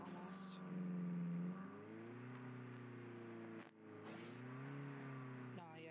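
Car engine in a video game, a steady tonal drone that rises and falls with shifts and revving, close and fairly loud, while a voice talks over it.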